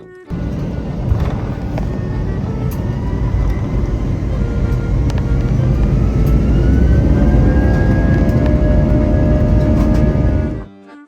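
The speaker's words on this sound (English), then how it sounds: "I did see this cool A320 taking off in front of us." Airbus A320 taking off at Stansted airport: a loud, sustained jet engine roar with deep rumble and rising whine, building steadily over several seconds before cutting off abruptly.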